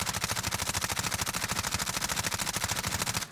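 Rapid automatic gunfire from the Warzone video game rattles in an unbroken stream of evenly spaced shots, loud and close, for a few seconds with no voices.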